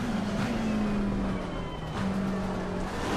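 Race car engine in the Assetto Corsa Competizione racing game, a loud steady drone holding pitch with a brief dip and recovery midway, continuous and close with no talk over it.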